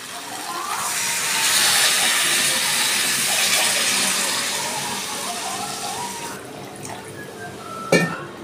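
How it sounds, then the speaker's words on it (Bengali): Water poured into a cooking pot of potatoes for a Bengali mango chicken curry, a steady rushing splash lasting several seconds before tapering off, ending with a brief clink of a utensil. "এবার আমি জল দিয়ে দিচ্ছি।"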